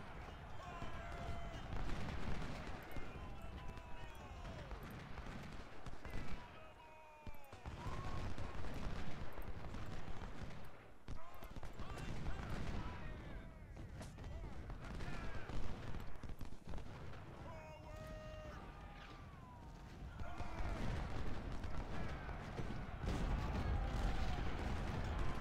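Cannon and rifle fire from a Union battle at Chickamauga in Ultimate General: Civil War, with repeated booms and crackling volleys layered over a constant battle din that runs nearly the whole time.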